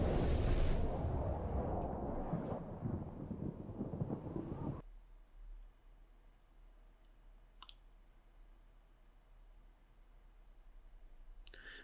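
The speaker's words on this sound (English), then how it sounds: "We receive them with volleys of cannon and musket in their teeth." Cannon and musket volleys in a Medieval II: Total War battle, a dense dull roar of gunfire that drops away midway, leaving faint ambience with a couple of sharp distant clicks later.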